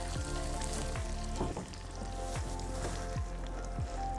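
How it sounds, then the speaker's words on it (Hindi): Onions sautéing over medium heat in Dalda oil with butter, a steady close sizzle and crackle, with a few soft stirring scrapes breaking in at intervals. "हमारा यहाँ पे प्याज जब तक सौते हो रहा है"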